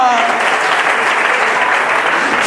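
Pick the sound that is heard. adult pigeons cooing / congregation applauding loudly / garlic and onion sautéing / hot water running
congregation applauding loudly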